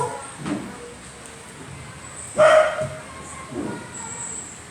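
A dog barks three times with gaps between, each a short, fairly close bark, the middle one loudest, over a quiet indoor background.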